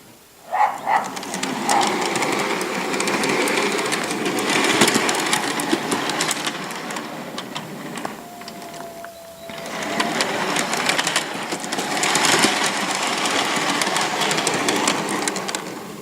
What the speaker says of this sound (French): Donc un petit test de roulement. Vous voyez, ça roule impeccable.